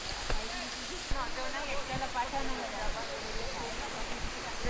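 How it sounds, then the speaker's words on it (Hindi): The Shitla Mata waterfall pours down strongly, a steady broadband rushing roar heard from nearby with a voice talking over it. "तो आइए हम चलते हैं बड़े वाटरफॉल के वहाँ पे, जहाँ से पानी बहुत तेज गिर रहा है।"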